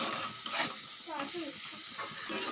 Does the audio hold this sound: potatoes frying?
yes